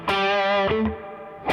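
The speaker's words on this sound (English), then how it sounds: "The amp reverb is like" Electric guitar through the Neural DSP Tone King Imperial MKII amp plugin with its plate-like amp reverb: a sustained chord rings out, followed by a couple of shorter notes and a fresh attack, each trailing into a reverberant tail.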